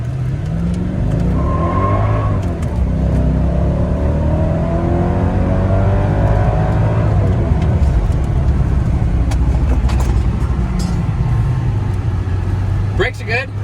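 The nd_72 four-door supercar accelerates hard, its engine note rising steadily, loud and continuous, with someone talking over it.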